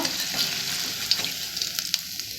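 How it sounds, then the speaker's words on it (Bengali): Kohlrabi bhajia fritters sizzle and crackle in hot frying oil, a close, continuous hiss with scattered pops and small stirring clicks, no talking. "ভাজিয়াগুলো হয়ে গেছে এবার তুলে নেব"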